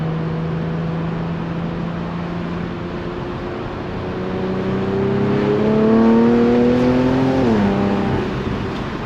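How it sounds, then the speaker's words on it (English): Infiniti Q50 Red Sport 400 twin-turbo with simple bolt-ons and no tune pulls hard through third gear, a loud steady engine drone rising in pitch across the run and swelling toward a peak before easing off near the end. "doing a third gear pull is fun all the time."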